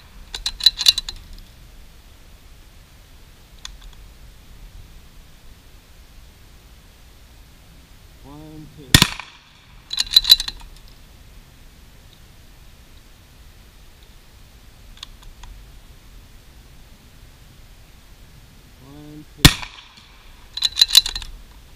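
Two sharp rifle shots from a CZ452 at target practice ring out about ten seconds apart, each loud and abrupt, with quiet clicking handling noises and faint voices around them.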